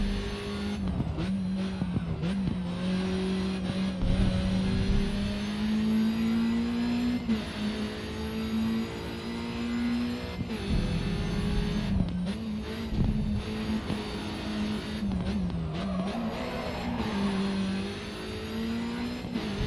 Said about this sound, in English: Happy V-Tech noises.